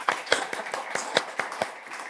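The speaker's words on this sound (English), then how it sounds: "Let's clap hand for doctor, please." An audience claps for a doctor, about eight or nine separate sharp hand claps in an uneven rhythm, fairly close and moderately loud, with no talking.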